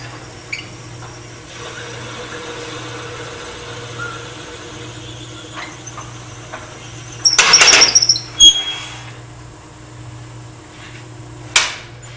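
A wood lathe hums steadily as the tool plunges into a small turned miniature, giving a short rough scraping burst midway, followed by a couple of brief knocks and squeaks.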